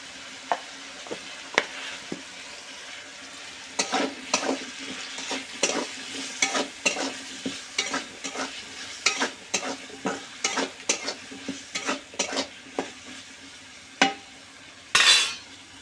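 Potatoes frying in a pan with salt and turmeric, a steady sizzle under repeated sharp scrapes and taps of a spatula stirring, close and fairly loud, ending with a louder clatter.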